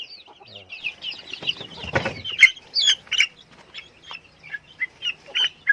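A native chicken clucks in a run of short, bright calls while being handled, with rustling and a brief scuffle midway, close and fairly loud, no talk.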